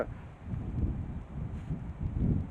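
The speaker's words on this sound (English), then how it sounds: "Oh, it's windy again." Steady outdoor wind buffets the microphone in low, rumbling gusts that swell and ease throughout, with no voices.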